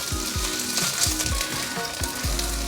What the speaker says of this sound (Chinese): 让它都沾到油，现在铺平均，给它煎一下，翻炒一下，再继续煎